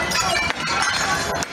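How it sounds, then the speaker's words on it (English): Glass windows at a restaurant are smashed, a loud close burst of breaking and clinking shards with several sharp impacts packed into under two seconds. "A man with a Palestinian flag smashing windows at a Jewish restaurant in Amsterdam."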